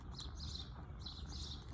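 Small birds chirp in short, high twittering bursts from a willow tree full of nests, fairly quiet and steady, with faint low rumbling background underneath and no talking.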